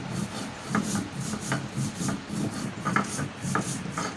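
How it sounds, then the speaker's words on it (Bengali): Fried chili and salt are ground by hand on a flat grinding stone with a rolling stone. The rhythmic, gritty rubbing and scraping strokes repeat steadily and close up, with no voices. "এখন লবণটা দিয়ে ভালো করে মরিচটা বেটে নেওয়া হবে।"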